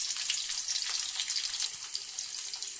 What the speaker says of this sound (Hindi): और फिर मैं हल्का गोल्डन ब्राउन होने तक इसे मैं फ्राई करूँगी इसमें